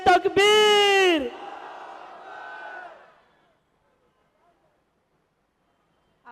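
A crowd at a political rally roars the Nara-e-Takbeer slogan as one big sustained chant after a leader's call, then fades to a murmur and silence.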